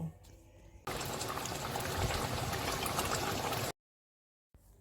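Fish curry with green chillies simmers in a pan, a dense bubbling, hissing wash that holds steady for about three seconds before cutting to silence, with faint sounds at either end.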